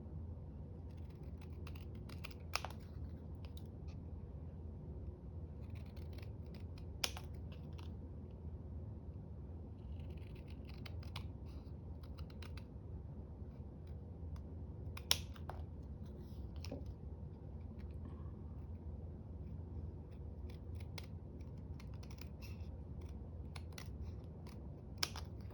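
Paper is cut with scissors for a junk journal glue book, giving quiet, scattered snips and crisp clicks spaced irregularly through a hushed room, with no talking.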